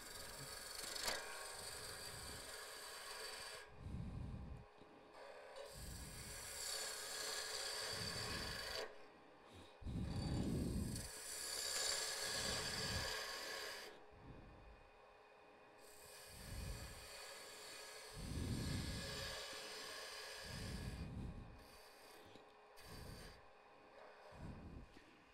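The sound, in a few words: skew chisel cutting wood on a lathe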